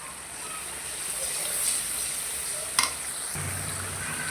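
Ground cardamom, pepper, cinnamon, bay leaf and cumin fry and get stirred in a pan for chicken feet curry, a soft steady sizzle with a brief clink partway through, fairly quiet and close.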